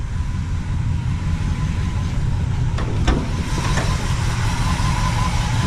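A 1972 Ford F-350 crew cab truck engine sits at a low idle, giving a steady, close mid-to-low rumble throughout, with a few faint clicks near the middle.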